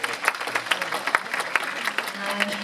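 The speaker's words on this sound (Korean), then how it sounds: "여러분 큰 박수 부탁드리겠습니다" An audience at a government joint recruitment briefing claps briefly, giving a short burst of crisp, steady applause with no voices over it.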